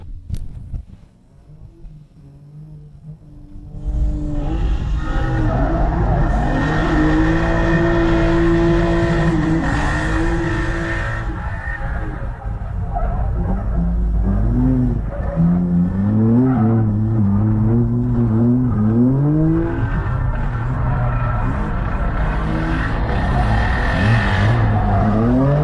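Race car engine revving hard through practice laps with tire noise, a knocking fault starting in the engine of a cheap junker build; loud, continuous and close, rising and falling with gear changes after a short quiet start.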